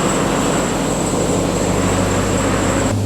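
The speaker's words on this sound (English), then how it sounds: "the supercharger whine is pretty impressive" Ram TRX supercharged pickup in hot weather, steady loud engine drone with a high thin supercharger whine held constant throughout, close and continuous, no voices.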